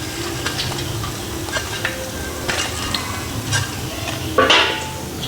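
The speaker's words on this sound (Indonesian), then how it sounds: "Biar sekali menggoreng gitu." Bakwan vegetable fritters with cabbage and carrot fry in hot oil in a pan, a steady close sizzle with occasional stirring scrapes and a louder splutter near the end.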